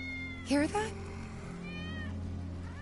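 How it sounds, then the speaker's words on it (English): A cat meows twice within the video game Final Fantasy 7 Remake, one short clear cry followed by a fainter second meow, heard over a low game ambience and background hum. "That's Wedge's cat."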